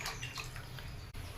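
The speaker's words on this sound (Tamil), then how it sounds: "இந்த அளவு தண்ணி கலந்துக்கலாம்." Water pours steadily into a tamarind masala for fish gravy, a continuous close splashing rush with no pauses, no talk over it.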